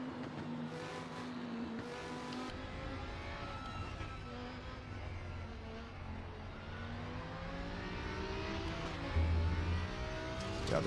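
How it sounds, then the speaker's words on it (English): A V10 race car engine in the RaceRoom racing game screams at high revs, its pitch rising and falling through shifts in one continuous, loud drone with no talking. "Oh, V10, the best engine."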